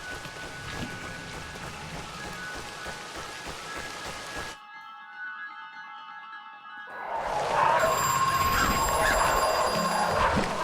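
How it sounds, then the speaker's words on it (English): Steady rain in the video game Crow Country pours down with a low rumble, cut briefly by a ringing electronic tone before the downpour returns louder. "it's raining now"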